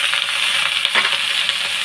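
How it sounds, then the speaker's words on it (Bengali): Sliced ridge gourd and potato dropped into hot, sautéed spice paste in a pan, a bright continuous sizzle with a brief stirring scrape midway, close and steady, no voices. "এখন এখানে আমি কুটে রাখা ঝিঙ্গা আর আলুটা দিয়ে দিলাম।"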